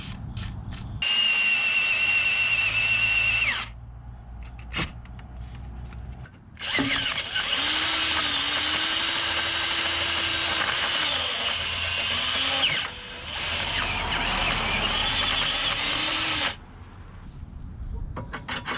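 A power drill fitted with a new bit runs in long steady bursts, grinding and whining loudly while boring into metal during a Dana 30/44 axle Currie Johnny Joint install, with short pauses between runs.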